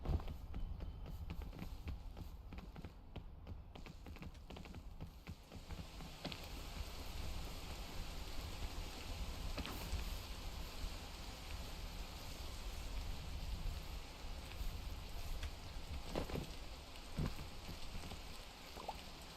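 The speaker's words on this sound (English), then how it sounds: "Rain is so delightful." Rain falls steadily in a video game as a soft, even hiss, with occasional faint ticks and footstep-like taps over it.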